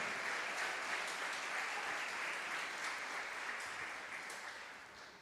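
A church congregation claps in steady, dense applause at moderate level, sustained throughout and slowly fading toward the end.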